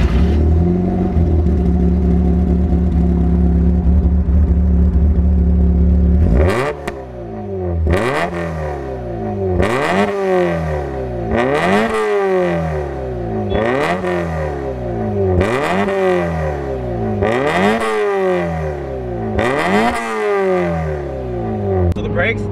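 A fully built 1997 Mazda Miata MX-5 with individual throttle bodies idles steadily, then revs sharply in a run of about seven loud, rhythmic blips. The engine is close to the microphone and heard alone.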